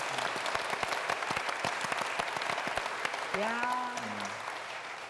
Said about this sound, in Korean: 우선 박수로 우리 권사님